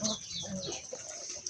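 Free-range broiler chickens on a small home poultry farm, soft clucks and murmuring calls from several birds, faint and close, with no talk.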